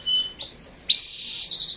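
Female canary chirping, a couple of thin high chirps followed by a sustained bright trill that shifts pitch midway, close and clear with no voices.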